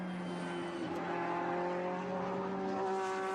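GT-X race cars lap a circuit at the Rose Cup Races, a steady engine drone with sustained whining tones that hold and shift slightly as cars pass, moderately distant and continuous.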